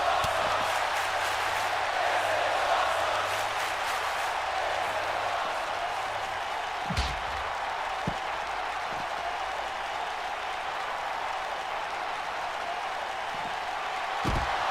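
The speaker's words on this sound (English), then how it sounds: "Crowd loving that." In WWE 2K22, an arena crowd gives a sustained wash of cheering and applause that stays steady for nearly fifteen seconds, broken by a few dull thuds from the ring.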